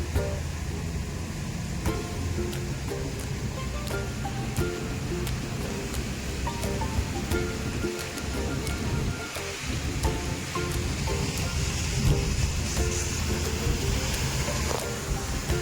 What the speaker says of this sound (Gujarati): તમે આજનો વરસાદ જોઈ શકો છો